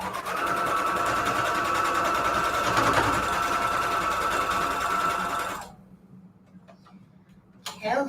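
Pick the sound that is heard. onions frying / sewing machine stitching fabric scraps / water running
sewing machine stitching fabric scraps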